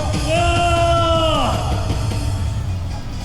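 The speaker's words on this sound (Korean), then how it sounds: "힘차게 구호와 함께 큰 박수로 맞아주십시오." A large political rally crowd at Gwanghwamun in Seoul bellows a sustained slogan in unison, loud and close, before breaking into general crowd noise and cheering.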